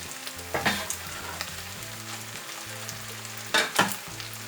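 Ripe bananas frying with sausage in a pan on the stove, a steady sizzle broken by a few spatula stirs and scrapes in short bursts, close and moderately loud, no speech.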